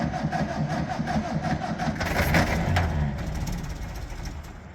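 A vintage car engine runs on choke in the cold, a steady, rough mid-pitched idle with a slight surge partway through, close and continuous without talk.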